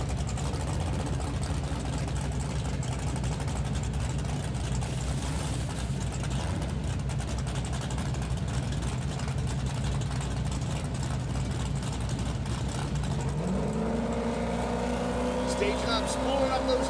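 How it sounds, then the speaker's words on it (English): A drag race car at a West Coast Grudge event sits staging with its turbos spooling up, a steady loud engine drone that rises sharply in pitch near the end, heard under an announcer's voice. "Staging up, spooling up those turbos."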